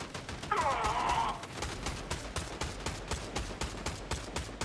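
Rapid gunfire in a video game rattles out as a steady string of sharp shots, loud and close, with a brief tonal game effect near the start and no talking.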